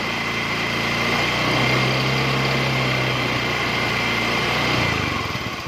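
A Honda Scoopy i scooter engine with a hesitating throttle and sluggish starting, held at a steady high rev, buzzing continuously, then dropping back near the end.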